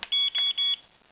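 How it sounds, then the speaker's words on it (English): Three electronic beeps from the speed button on a Realacc R374 mini drone's remote controller, close and clear with short gaps between them and no talking. "So it's got 3 speeds, 1 beep, 2 beeps"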